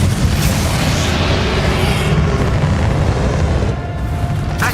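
A Bombarda spell blast in the video game Hogwarts Legacy, fired during a final boss fight against the dragon Ranrock, booms loud and rumbling over dense, continuous battle noise with no break.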